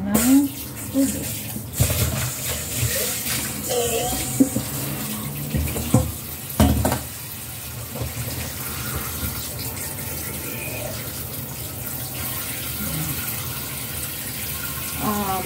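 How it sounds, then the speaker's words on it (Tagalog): Tap water runs into a pot holding a whole chicken, a steady rushing pour with splashy surges and clunks of handling early on, then a softer continuous fill; a voice speaks briefly near the start. "I-cover lang natin ng water yung buong manok para umulo siya"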